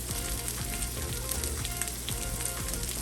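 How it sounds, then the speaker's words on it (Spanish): Chopped onion sizzles steadily in a hot pan while cooking a chicken chow mein with vegetables, a dense, continuous frying crackle with no talk over it. "Ahora le agrego la cebolla."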